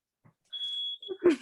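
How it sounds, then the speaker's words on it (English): A house smoke alarm lets out a single sustained high electronic beep, short and fairly clear, followed by a burst of other noise, likely from a kitchen during a cooking class. "party until Jenna sets off the smoke alarm in the house."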